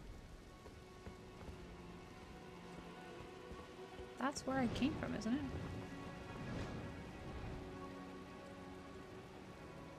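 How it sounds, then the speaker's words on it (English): Rain in the video game Elden Ring: Shadow of the Erdtree, a faint steady patter of drops under a quiet game backdrop, with a player's voice speaking briefly partway through. "Ooh, it's raining."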